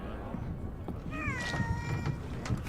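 Cat meowing in the video game Monster Hunter World, a couple of rising, wavering meows over soft game background and faint clatter, moderately quiet.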